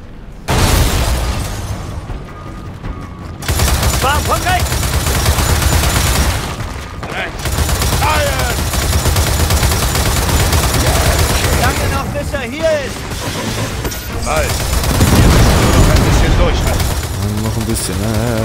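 Heavy mounted turret fire in the video game Gears of War 4, sustained bursts with explosions and booms that break off briefly several times and then resume, mixed with other battle noise.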